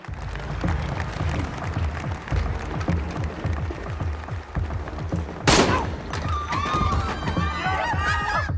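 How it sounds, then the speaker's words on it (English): Rifle fire inside a hotel during a staged shooting scene from the TV show Shooter comes as rapid bursts of shots with thuds, followed by a loud crack and screaming voices, dense and chaotic. "That was a rifle inside the hotel."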